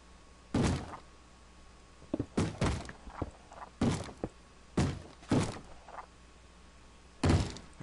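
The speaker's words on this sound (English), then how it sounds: "zombies banging on this door" Zombies pound on a wooden door in the Minecraft Hexxit modpack, a series of loud, irregular thumping knocks about every second, each a sharp broadband bang, close and prominent with nothing else heard between the hits.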